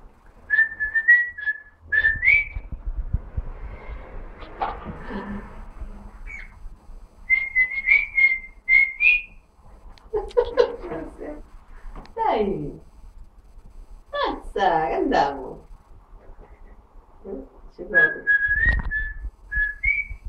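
A person whistles short, bright melodic phrases in three separate bursts, with Italian-speaking voices talking in between and alongside.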